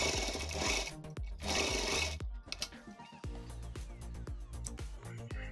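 A sewing machine stitches elastic onto a homemade fabric face mask, running in short loud bursts with rapid mechanical clatter and brief pauses between runs, no voices.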